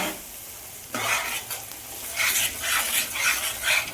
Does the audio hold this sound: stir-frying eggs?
yes